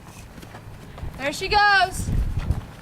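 Pony hooves clip-clopping on the ground, a few soft thuds close by, with a whinny-like tonal cry in the middle and a voice speaking over it.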